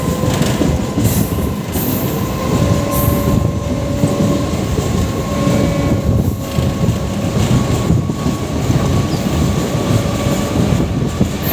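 An EMU electric passenger train on the Chengalpattu to Arakkonam route rumbles loudly and steadily from the inside, with continuous wheel noise, clattering over the rails and faint high squeals.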